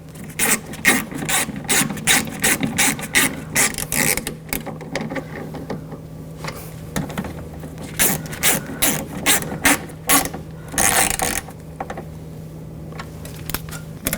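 A hand ratchet tightening bolts on a 2000-2006 BMW X5 front window regulator, giving rapid, close metallic clicking in repeated bursts with brief pauses between strokes.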